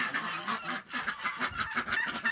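Village geese honk repeatedly in a rapid, overlapping chorus of nasal calls, fairly close and continuous with no talking.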